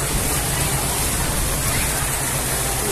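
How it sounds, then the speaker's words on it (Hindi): Steady rain falling outdoors at a home with potted plants, a continuous broadband hiss with a low rumble underneath, evenly loud throughout with no distinct drops standing out. "बारिश शुरू हो गई है, मौसम बहुत ही बढ़िया हो गया, बारिश हो रही है"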